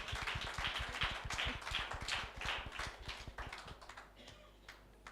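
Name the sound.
audience applause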